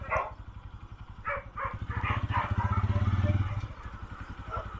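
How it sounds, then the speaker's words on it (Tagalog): A dog barks a few times in the distance at Sitio Tabuk, Sablayan, over the steady drone of a nearby motorcycle engine, with a voice briefly heard. "May aso ah."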